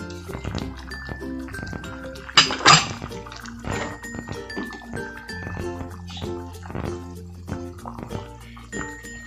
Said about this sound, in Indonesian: saya biarkan mendidih sebentar